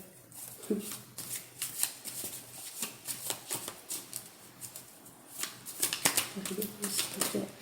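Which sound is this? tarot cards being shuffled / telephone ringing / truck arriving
tarot cards being shuffled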